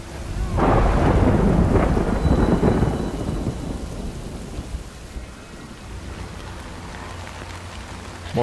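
Heavy rain and rolling thunder in the video game Death Stranding, a loud continuous downpour with a deep thunder rumble that swells early and then settles into steady rainfall.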